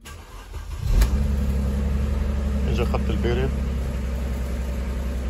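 A Mercedes-Benz R-Class with an intermittent fault that makes it cut out once warm cranks, catches sharply at about one second and settles into a steady, close idle while someone speaks briefly.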